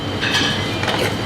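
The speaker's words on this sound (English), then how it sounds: "simply a couple of turns of black pepper" A black pepper grinder turned over a salmon pasta, giving a quick burst of dry gritty ratcheting crunches, two short grinding bursts close up and fairly clear.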